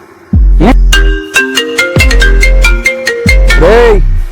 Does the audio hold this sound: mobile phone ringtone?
yes